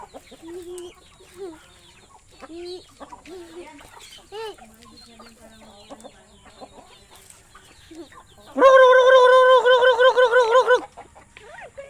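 Chickens cluck softly in short bursts, then a loud rooster crows close by for a couple of seconds, with faint human voices mixed in earlier.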